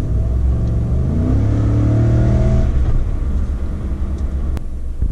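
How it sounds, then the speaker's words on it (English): A Ford truck's V8 engine revving up loud and close, the rumbling tone climbing in pitch over about two seconds before settling back to a deep idle. "this V8 in this truck just sounds so good"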